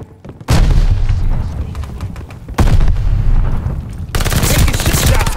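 A frag grenade goes off in the video game Call of Duty: Vanguard, a loud booming blast amid close rattling gunfire, with further heavy bursts rolling through the scene.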